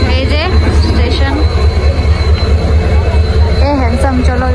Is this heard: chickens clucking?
no